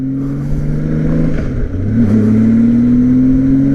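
A stock Honda Goldwing motorcycle engine with an unmodified exhaust, a close, steady low growl that dips briefly and then rises again as the revs pick up.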